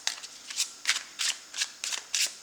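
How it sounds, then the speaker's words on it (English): A deck of tarot cards is shuffled close to the microphone in a rhythmic series of about seven crisp riffling bursts, each brief and papery, separated by short pauses, with no talking over it. "let's give this deck a couple shuffles"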